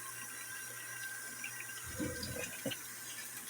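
Tap water runs into a container while Kool-Aid is being made, a steady faint stream with a few splashing gurgles near the end and no talking.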